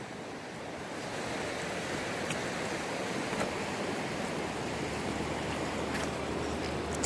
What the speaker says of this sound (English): right over here is the freezing creek